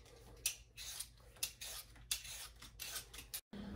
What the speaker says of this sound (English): let's start peeling our potatoes